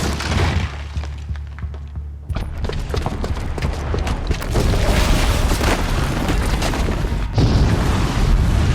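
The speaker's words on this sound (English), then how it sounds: "the booby trap on the bomb downstairs is gonna get set off" A booby-trapped bomb detonates in Horizon Zero Dawn, a loud, sustained rumbling blast with crashing debris that swells abruptly and stays dense and roaring for several seconds.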